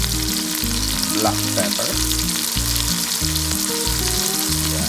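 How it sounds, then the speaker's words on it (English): Chicken sausage, pork steak and vegetables cooking in a pan give a loud, continuous close sizzle, with a brief spoken phrase over it. "Now we have to let it simmer for a while"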